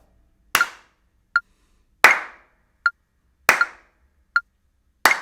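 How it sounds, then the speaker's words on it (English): Sharp hand claps in a steady pattern, a louder clap alternating with a quicker, softer tick like a metronome click, repeating evenly about every second and a half with nothing else heard. "what I'd like you to do is clap on beat 3 as well"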